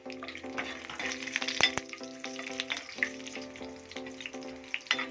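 Cashew nuts frying in hot ghee for pumpkin halwa, a steady close sizzle with crackling pops and light stirring scrapes, no voices.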